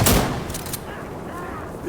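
Gunfire in the Insurgency Sandstorm video game, a loud close burst at the start followed by a few sharp shots, then muffled crackle beneath tense shouting voices.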